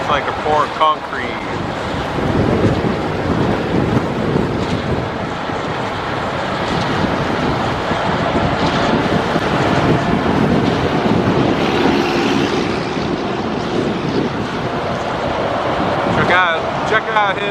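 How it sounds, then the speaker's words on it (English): Strong wind buffets the microphone at a stadium construction site where concrete is being poured, a continuous loud roaring rumble with gusts throughout, and a voice speaking briefly over it. "Man, it's windy."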